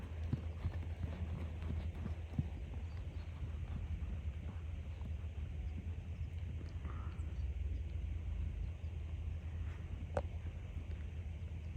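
A horse trots steadily during a riding lesson, its rhythmic hoofbeats muffled under a constant low background rumble and faint wind.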